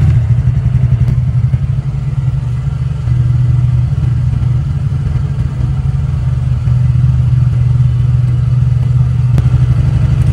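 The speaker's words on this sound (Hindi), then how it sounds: "जैसे ही मैं इंजन को स्टार्ट करूंगा और 10 सेकंड तक एक्सीलेटर नहीं लूंगा" A TVS Ntorq 125 XT scooter engine idles steadily without throttle, a loud close low putter with a constant rhythmic chug and faint mechanical clatter throughout.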